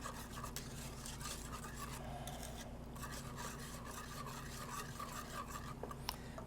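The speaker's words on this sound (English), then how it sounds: "Get those stirred in" A spoon stirs pumpkin bisque in a pot after honey is added, making a steady close scraping and rubbing swirl that runs throughout over a low kitchen hum.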